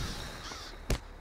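A crow in the Lord of the Rings Online game, in the West Rohan region of Broadacres, lets out a single sharp caw over a steady low ambient backdrop.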